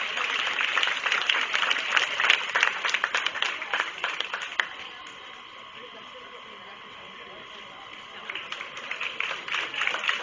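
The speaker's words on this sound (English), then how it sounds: "Let's give these young people a nice round of applause." Audience applause for the young dairy doe champion and reserve champion at the 2017 Hocking County Fair goat show. Steady clapping drops to a low murmur midway, then swells back near the end, with a voice over the room.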